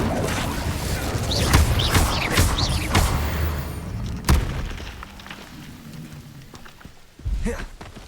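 Spell effects from the Hogwarts Legacy video game, including an Incendio fire spell, sound as a series of loud bursts and booms with a sharp blast near the middle, under busy game noise and some voices.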